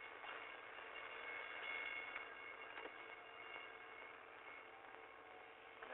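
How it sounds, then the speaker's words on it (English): A low, steady rumble of a train rolling past at a distance, continuous and fairly faint throughout with no voices. "Train blocking it all the way."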